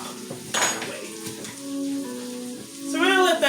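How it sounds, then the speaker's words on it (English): Vegetables sautéing in a pan during home meal prep, a soft steady sizzle running under clinks of utensils against the pan, with brief brighter scraping near the end. "So we're going to let that saute."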